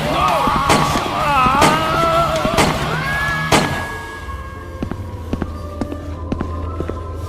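Gunfire in the point-and-click adventure game Yesterday: a run of loud, sharp, booming shots in quick succession over a tense musical score, followed by quieter sparse clicks and a low drone.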